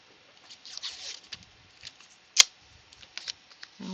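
Mint masking tape being pulled and handled in a craft room, with soft crinkles and light patters, plus one sharp snapping tear midway, all faint and close in a quiet space.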